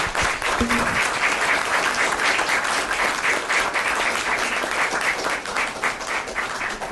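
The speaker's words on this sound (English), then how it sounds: "we're going to give you a round of applause too." A round of applause from the audience at an Inglewood city council meeting, steady dense clapping sustained loudly throughout without pause.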